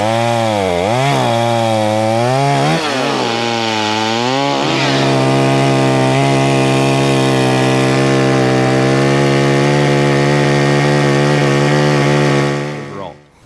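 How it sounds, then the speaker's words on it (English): A chainsaw fitted with a new full chisel chain revs up in a few rising and falling bursts, then holds a loud, steady high whine while cutting through wood, close by, before cutting off abruptly at the end. "I'll go buy a brand new full chisel chain and I'll run the saw again"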